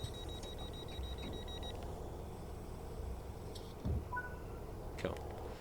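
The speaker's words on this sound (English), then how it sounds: "The audio of both door alarms." Class 153 door alarms in Train Sim World 5: a steady high electronic tone sounds for the first couple of seconds, later followed by two short, higher beeps over a constant low cab rumble with a few soft clicks.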